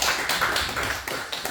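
A church lecture audience on joint health applauds at the close, a dense burst of clapping heard close and continuous throughout.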